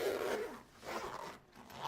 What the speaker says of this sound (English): Zipper ASMR.